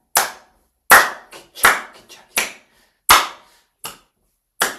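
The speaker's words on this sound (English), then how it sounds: "And now free movement forward with some clapping." Hands clap during free yoga movement, seven sharp, close claps at an uneven, relaxed pace with quiet gaps between them and a few faint softer pats.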